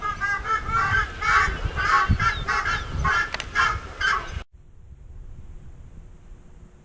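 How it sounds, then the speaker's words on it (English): Birds gathered at a rock in southern Peru give loud, repeated honking calls in quick succession over gusty wind. The calls then cut off, leaving only a quieter wind rush. "These birds seem to think that this rock is special."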